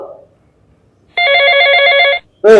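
A telephone rings with one loud, close burst of rapid electronic trilling lasting about a second. A brief voice comes before it, and another voice begins right after.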